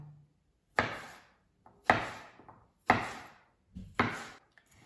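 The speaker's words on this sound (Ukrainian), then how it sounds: "Помідори буду нарізати напівкільцями." A knife slicing green tomatoes into half-rings on a wooden board, four evenly spaced crisp chops about a second apart, close and clear with quiet gaps between.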